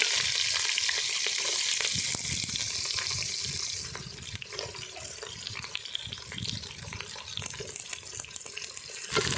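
Onions sizzle loudly in hot oil with popping mustard seeds, a continuous close frying hiss with crackles and scraping stirs throughout.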